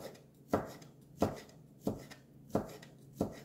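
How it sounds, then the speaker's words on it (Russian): Knife chopping smoked sausage into small pieces on a board, five evenly spaced crisp thuds about two-thirds of a second apart, close and alone. "Нарезаю мелким кусочком."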